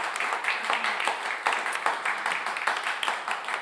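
Studio audience applauding during a live radio music broadcast, steady close clapping carrying through the whole stretch without talk over it.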